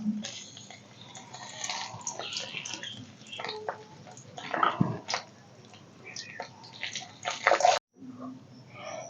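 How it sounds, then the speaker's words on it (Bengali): A bay leaf, dried red chillies, whole cumin and whole garam masala drop into hot oil for tempering, giving an uneven close-up sizzle and crackle with sharp bursts and a few clatters. "একটা তেজপাতা দুটো শুকনো লঙ্কা গোটা জিরে আর গোটা গরম মশলা সম্বারে দিয়ে দেবো"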